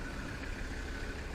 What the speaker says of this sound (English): You can hear the motor purring.